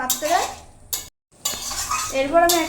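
A finished prawn and cucumber curry is poured from a pot into a serving dish, with a spoon scraping and clinking against metal in short bursts and a brief silent pause in between.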